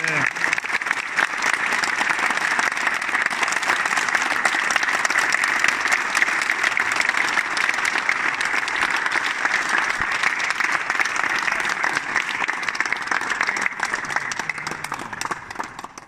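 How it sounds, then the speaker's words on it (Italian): Loud, sustained applause from a large crowd at a Subbuteo tournament, steady clapping that fades slightly at the end. "Adesso facciamo ancora più forte un applauso a Maurizio Cavallaro."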